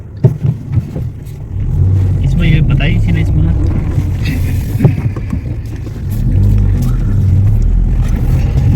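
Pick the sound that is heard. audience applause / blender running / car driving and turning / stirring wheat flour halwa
car driving and turning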